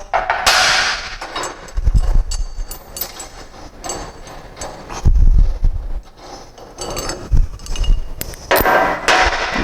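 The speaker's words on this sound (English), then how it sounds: "I'm going to pull these little clamps off" Metal clamps are pulled off a Redline MC655R motorcycle lift table, giving loud, close bangs and clanks in irregular bursts, with rattling and scraping between the hits.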